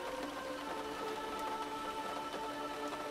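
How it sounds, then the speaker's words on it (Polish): Rain pours outdoors in a dense, steady patter on surfaces, a faint continuous hiss with no talk. "Na dworze padał deszcz i wiał silny wiatr."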